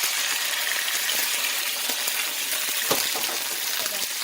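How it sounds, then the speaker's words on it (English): Sweet pepper, onion, scallion, garlic and tomato sauteing in hot oil in a pot, a dense continuous sizzle with small pops and the occasional scrape of stirring, close and steady. "I'm sauteing the vegetables, the sweet pepper, the onion, the garlic, the scallion"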